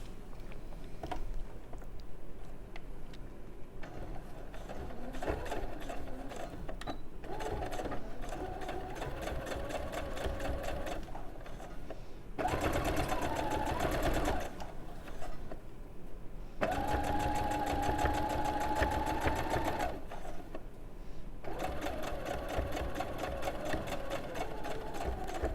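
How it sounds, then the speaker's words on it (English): A sewing machine top stitching a fabric flap, running in bursts of rapid mechanical whirring and clatter, pausing briefly between runs and speeding up in places, close and clear with no speech. "I'm just going to top stitch to make sure that flap stays down"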